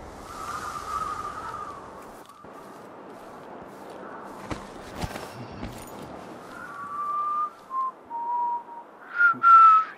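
Someone whistles in the video game Dishonored 2 with clear, sustained tonal notes, then a series of shorter rising and falling whistles, mixed with soft footstep-like scuffs.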